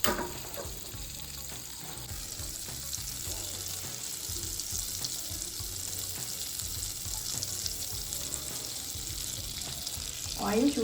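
Oil goes into a pan that already holds butter for green chilli chicken, and a steady hiss of frying runs throughout with a louder sizzle at the end. Someone talks over it.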